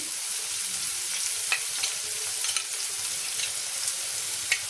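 Kofta fries in a pan with a steady, bright sizzle close up, punctuated by occasional light scrapes and clicks as it is stirred, no voices present.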